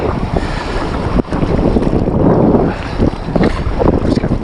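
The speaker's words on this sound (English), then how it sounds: "Some waves coming in now." Sea waves breaking against the base of a coastal cliff on a windy shoreline, a loud continuous wash of surf mixed with heavy wind buffeting the microphone.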